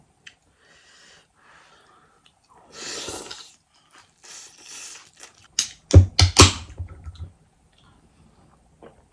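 Someone eating pasta up close: faint slurping and chewing at first, then a cluster of louder crunchy bites and mouth clicks near the end, with quiet gaps between sounds.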